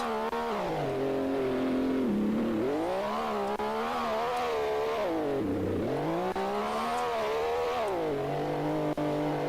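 Formula X race car weaving on track to warm its tires behind the safety car in a video game, engine note rising and falling in continuous sweeping revs, loud and close throughout.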